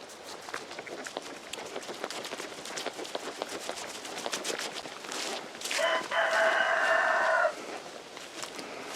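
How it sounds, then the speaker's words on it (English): A rooster crows once, a long loud cock-a-doodle-doo near the end, after scattered clucking and rustling footsteps nearby. "as soon as the rooster hears me, he starts crowing"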